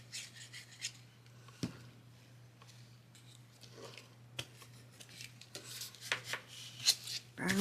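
Rubbing and scraping as a craft piece is burnished down by hand, a quiet dry scuffing in uneven strokes over a steady low hum, with a sharp tap partway through and busier rubbing near the end.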